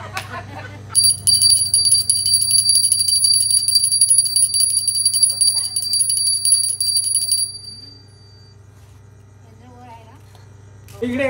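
A small handheld puja bell rings rapidly and continuously for several seconds, bright and close, then stops; people talk over and after the ringing.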